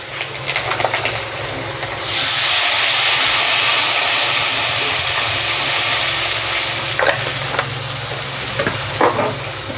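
Water goes into a pan of fried black cumin, green chillies, turmeric and salt for a pabda fish curry, bursting into a loud, broad sizzle that continues steadily with scattered clinks and scraping.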